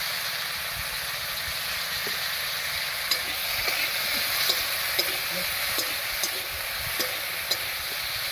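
Banana flower fritters fry in hot oil with a dense, steady sizzle close up, broken by occasional soft clicks from stirring. No voices are heard.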